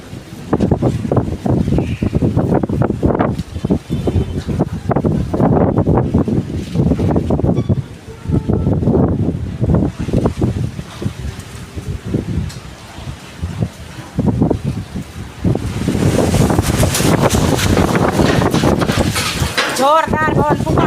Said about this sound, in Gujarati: જોરદાર પવન ફૂંકાણો તો તમને અવાજ આવે.